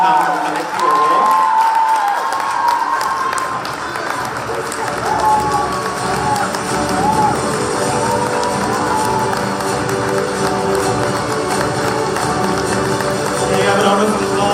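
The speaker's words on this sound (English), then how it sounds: "Can you have a round of applause? UG Best Outgoing Student." Applause for the best outgoing student award at a college day ceremony, a steady, loud wash of clapping from a crowd sustained throughout, with some cheering and voices mixed in.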